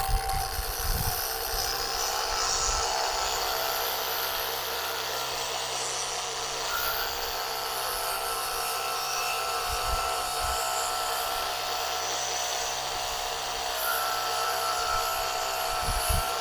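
A drill spins an abrasive coral brush head at low speed, scrubbing rust from a pipe in a steady, continuous whine with a gritty grinding texture, loud and close throughout.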